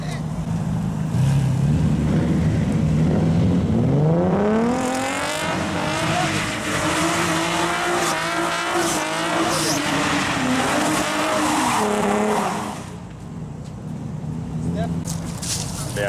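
A car pulling away from a night car meet, its engine rising in pitch through a long, loud acceleration with tire squeal and road roar, then easing off near the end.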